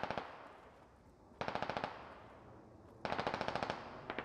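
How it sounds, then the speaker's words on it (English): Automatic rifle fire in a military squad video game, two sustained bursts of rapid, evenly spaced shots at moderate distance, separated by a brief lull with fading echoes. "Hovis's squad adding AR fire."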